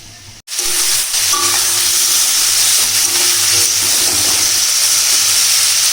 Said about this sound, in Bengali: আমিও এটা অল্প করে ভেজে নেবো দেখো